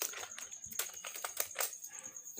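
Fingers type on a budget Prodot computer keyboard, a quick, irregular patter of close, clicky keystrokes over faint background hiss.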